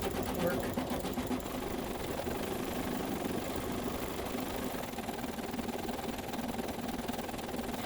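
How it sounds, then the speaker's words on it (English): A home embroidery machine stitches out a coffin side placement for a haunted house block, giving a steady, fast mechanical hum and rapid needle chatter that runs continuously at moderate level, with no pauses. "now it is going to stitch out the coffin side placement."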